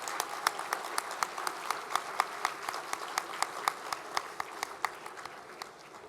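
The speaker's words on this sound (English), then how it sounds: "Let's give them another round of applause." A lunchtime audience at a National Philanthropy Day show gives performers another round of applause, sustained crowd clapping with a few sharp, distinct claps standing out near the front.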